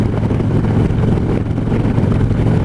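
Heavy wind buffets a rider's helmet behind the fairing of a 2015 Harley-Davidson Street Glide on the road, a loud, constant low roar of rushing air mixed with engine drone.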